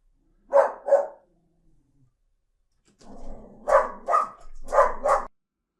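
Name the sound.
dog barking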